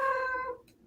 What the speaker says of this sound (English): I apologize for my cat in the background.